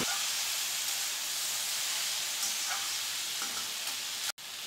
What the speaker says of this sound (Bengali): দশ পনেরো মিনিট ভাজার পর আমি চিংড়ি মাছ ভাজাটাও এর মধ্যে দিয়ে দিচ্ছি।